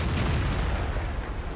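A T34-3 tank's main gun fires in World of Tanks, one heavy booming blast with a deep rumbling tail filling the short moment.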